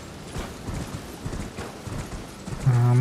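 Horse hooves clip-clop in the video game Elden Ring, a steady rhythmic trot heard close up, ending in a short loud snort or whinny.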